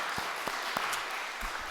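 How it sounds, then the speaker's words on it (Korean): A church congregation gives a short burst of encouraging applause, steady scattered clapping from a crowd heard fairly clearly for a couple of seconds. "우리 여전도회를 위해서 큰 박수로 먼저 한번 격려의 박수를 치겠습니다."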